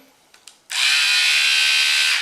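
An electric split-end hair trimmer switches on after a couple of faint clicks and runs with a steady, loud high-pitched buzzing whir close to the microphone until the clip ends.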